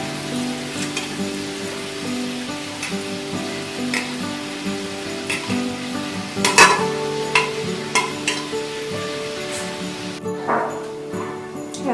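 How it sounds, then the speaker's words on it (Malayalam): Cooked beef stirred in a hot pan for beef peralan sizzles steadily under repeated scraping strokes of a spoon. A dog barks faintly in the background. "ഇതിലോട്ട് നമുക്ക് നമ്മൾ വേവിച്ച് വെച്ചിരിക്കുന്ന ബീഫ് ഇട്ട് കൊടുക്കാം."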